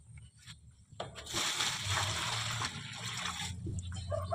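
Water poured into a container to fill a homemade liquid organic fertilizer mix, heard as a continuous faint trickling and splashing pour that runs for several seconds after a brief pause, with no one talking.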